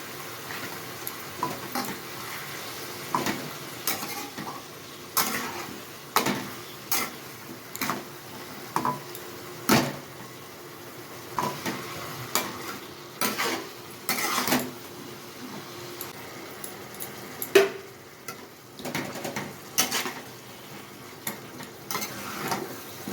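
Chicken curry meat with ginger garlic paste being stirred in a pan over a low flame, a spoon scraping and clicking in irregular bursts over a soft, steady sizzle.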